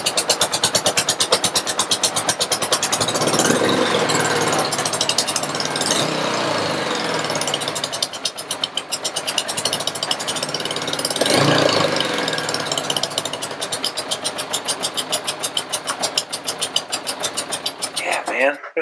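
A Honda GL1100 motorcycle engine idles with a rapid, loud, steady chugging pulse that swells slightly at times, running throughout.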